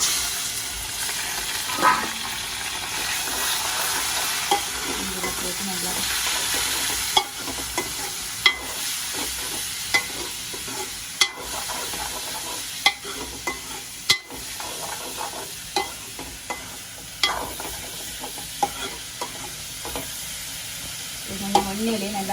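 Liver stir-frying in a pan with tempered onions and green chillies, a steady broad sizzle running throughout with sharp scraping clicks of a spatula stirring at irregular intervals, close and fairly loud, no talking.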